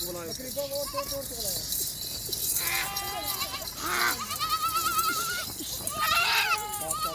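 Nachi goats and their kids bleat over and over, a mix of deeper adult calls and higher wavering kid cries overlapping close by, with a steady farmyard hum and voices in the background.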